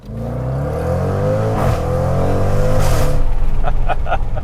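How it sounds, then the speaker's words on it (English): A Dodge Durango Hellcat's supercharged engine revs loudly outside, its deep exhaust roar layered with a rising supercharger whine, building steadily and staying close throughout. "Exhaust-wise, that F-Pace I think was better, but supercharger wine, this is cooler."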